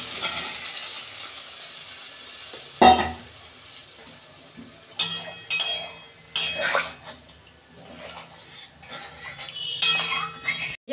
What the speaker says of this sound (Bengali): আমি এই কাবলি ছোলাটা সিদ্ধ করে রেখেছিলাম দিয়ে দিচ্ছি